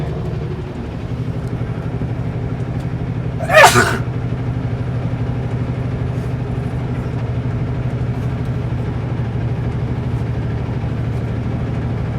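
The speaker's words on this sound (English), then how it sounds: "I'm gonna sneeze." A single sharp sneeze bursts out inside a truck cab, brief and close, over the steady low drone of the rig's engine that carries on throughout.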